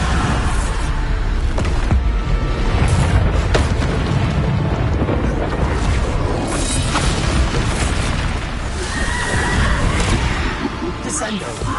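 Booming magical blasts from the Bombarda explosion spell in Hogwarts Legacy, heavy low rumbles and bursts running continuously and loud alongside other spell effects, with voices talking over the action.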